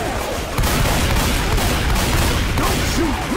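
Dense, loud gunfire fills a Left 4 Dead 2 co-op game as players shoot at a Tank, a continuous barrage of rapid shots and booms with faint voices mixed in.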